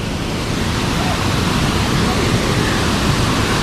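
A forest waterfall roars loud and close, an unbroken broadband wash of falling water filling the whole scene.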